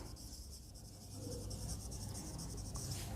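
Faint scratchy strokes of writing on a board in a classroom, soft continuous rubbing at low volume over quiet background hiss.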